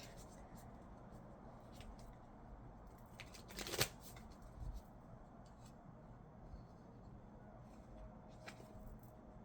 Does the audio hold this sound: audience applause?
no